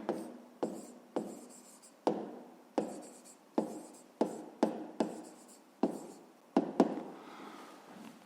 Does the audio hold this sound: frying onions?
no